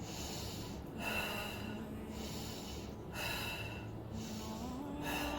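Slow, deep breaths during a Pilates exercise, with three long airy inhale-exhale cycles about a second apart, close and clear with no talking.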